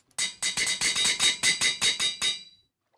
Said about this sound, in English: Anvil noise.